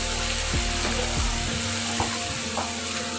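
Chicken pieces frying in ginger garlic paste for a spicy chicken fry, giving a steady close broadband sizzle with a few low knocks and scrapes of stirring, no voices.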